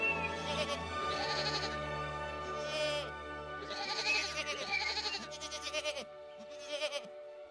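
Wild goats on the rugged North Devon coast bleat loudly and close by in several wavering calls. No one speaks.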